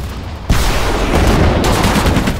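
Infantry gunfire in the game Sudden Strike 4 during the Allied invasion of Normandy, a loud sudden onset of dense overlapping rifle and machine-gun fire continuing without pause, close and heavy.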